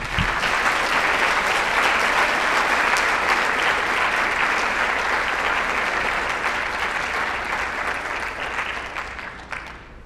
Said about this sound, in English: Please join me in a round of applause for Mrs.